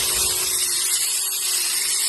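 A power drill with a bit bores into a tire, giving a steady, close, hissing whir that holds evenly without pause.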